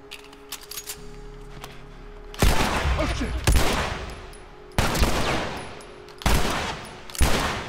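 In The Last of Us Remastered video game, gunfire breaks out as four loud, heavy bursts of shots spaced a second or so apart over background game ambience, with brief talk near the start.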